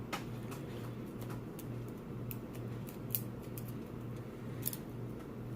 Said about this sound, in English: I got these good old scissors.